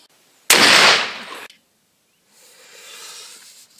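A Baikal MP155 shotgun fires a single 50-gram cartridge outdoors, one sharp loud blast that decays over about a second, followed by silence and then faint wind-like background noise.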